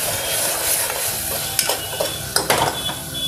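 Rajma masala with tomato and spices is stirred in a hot pan, a close, continuous sizzle with scraping of the spoon and a few sharper clinks toward the end.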